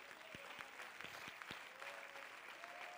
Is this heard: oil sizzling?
no